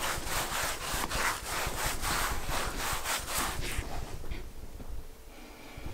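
A brush scrubs a carpet in steady back-and-forth strokes, close and fairly loud, a raspy rhythmic rubbing that slows and fades toward the end.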